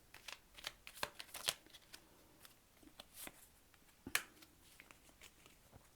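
Tarot cards are shuffled by hand, close and quiet, in a series of soft riffling bursts and crisp snaps spread irregularly over several seconds.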